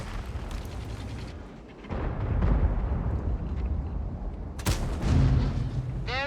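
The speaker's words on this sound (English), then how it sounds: "There's artillery, as I've been saying. If it hits me, I am screwed." Artillery fire in a tank video game: a rumbling battlefield bed with deep booming impacts, a sharp crack of a shell near the end, then a rising whistle, all loud and without talk.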